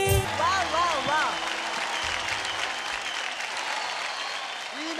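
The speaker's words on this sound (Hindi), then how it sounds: "रीना जी के लिए तालियां, रीना जी के गानों के लिए तालियां." Audience applause after a Hindi film song performance on a singing competition stage, a dense sustained wash of clapping with a voice talking over it and a few sung notes at the start.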